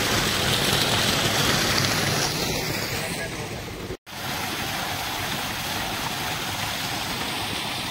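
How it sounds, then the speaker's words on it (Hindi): Water gushes steadily from the 4-inch pipe of an electric tubewell on a farm, a loud, constant rushing noise with a momentary dropout midway. "बिजली वाला ट्यूबवेल पानी दे रहा है,"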